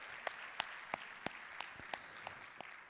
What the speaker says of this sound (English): Let's give EDF a round of applause,